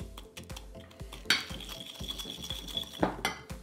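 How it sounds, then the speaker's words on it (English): A whisk clatters against a bowl while mixing cookie dough ingredients, with rapid, regular metallic taps and scraping strokes close by, fairly loud and steady. "let's use a whisk to mix this all up"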